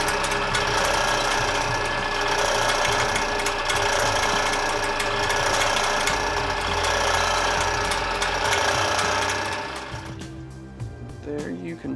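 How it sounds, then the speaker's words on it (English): A power drill bores out a pin head on a Beretta U22 Neos pistol, a loud steady mechanical whir with grinding texture that runs continuously before spinning down near the end. "we'll drill that head out"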